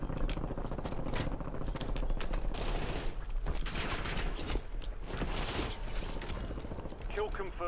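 Rapid bursts of gunfire from the video game Black Ops 7 run continuously amid a busy battle mix with other effects and voices speaking over it.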